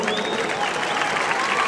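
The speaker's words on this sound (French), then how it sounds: "On peut les applaudir très fort s'il vous plaît, cher public." A crowd in the Arles bullring arena applauds loudly during a recortadores contest with a Giraud ganaderia bull, a dense, continuous roar of clapping.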